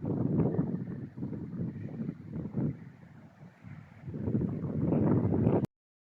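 Strong wind whipping across a lake by a Belarusian village, roaring in gusty, rising and falling surges with heavy buffeting close to the microphone, then cutting off abruptly.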